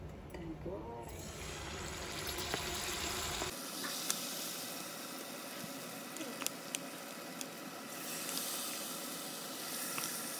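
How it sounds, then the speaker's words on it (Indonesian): Steady crackling sizzle of flour-coated mung bean gandasturi deep frying in hot oil, with a few sharper pops, while someone talks over it. "Kita goreng."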